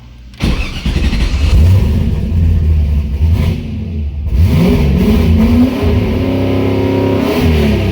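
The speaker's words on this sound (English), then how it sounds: "start it up with the clutch down, rev it about 3 grand" A car with a new clutch starts in third gear, then its engine revs to about 3000 rpm. The loud, close start is followed by a sustained engine roar and another rise in revs near the end.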